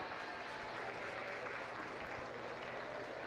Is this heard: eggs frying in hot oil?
no